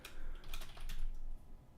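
Quick bursts of keystrokes clatter on a computer keyboard, close and crisp, in a short irregular run of taps with no voices.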